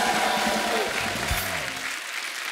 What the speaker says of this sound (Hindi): पूजा, आशा, जुबीन और विद्युत के लिए जोरदार ताली हो जाए